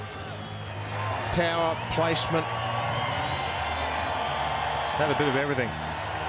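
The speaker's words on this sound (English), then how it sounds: "Raise your bat because you deserve this applause." Cricket stadium crowd applauding and cheering Quinton de Kock after a big innings, a steady wash of clapping and crowd noise under continuous commentary voices throughout.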